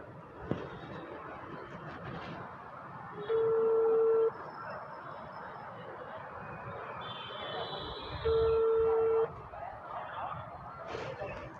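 A phone dialed on speakerphone gives two long steady electronic ringback tones a few seconds apart over faint background noise and quiet talk.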